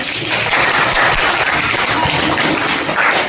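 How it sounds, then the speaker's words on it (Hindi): A class of young children at a government school applauds a classmate, a steady wash of many small hands clapping together, continuous and fairly loud throughout. "रिया के लिए ताली बजाइए एक बार"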